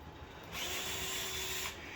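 Power drill driving bolts on an M2C 1129 X Series chassis brace, a steady high whine running for over a second between short pauses, close and loud.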